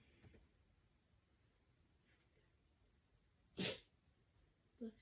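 One sharp, close sneeze bursts out of a quiet room, followed a second later by a shorter sniff or small breath, with faint shuffling before it and no talking.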